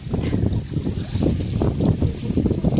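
Strong wind buffets the microphone in loud, rumbling gusts that rise and fall continuously, with no voices heard.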